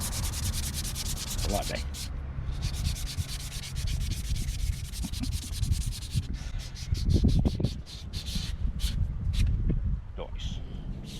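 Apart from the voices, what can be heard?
sanding a wooden guitar stand with sandpaper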